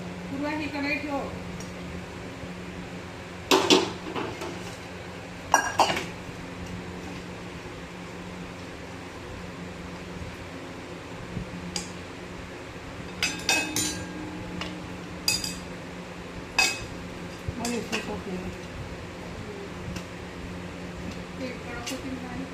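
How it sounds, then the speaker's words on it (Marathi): A kadhai (wok) is set down in a home kitchen while chikki is made, with several sharp metallic clinks of pots and utensils in short bursts over a steady low fan-like hum. "पूर्वा ही कढई ठेव."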